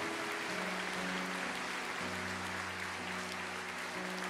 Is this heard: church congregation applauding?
yes